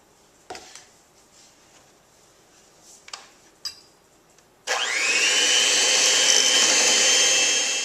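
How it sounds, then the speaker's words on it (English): An electric mixer running on medium speed in a home kitchen, starting abruptly after a few soft knocks and handling sounds, then a loud, steady whirring hum that continues to the end. "mix well on medium speed with the electric mixer"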